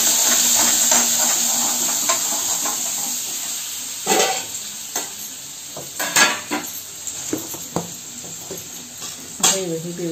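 Spices sizzle in hot oil for chole bhaji, a steady broad hiss with intermittent stirring clinks and pan knocks, while a person talks over it at times.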